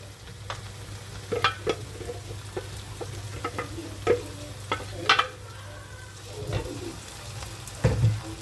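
A peeled tomato sizzles in a pan on top of softened onions, giving a steady low frying hiss with scattered clicks and stirring knocks of a utensil against the pan, fairly close.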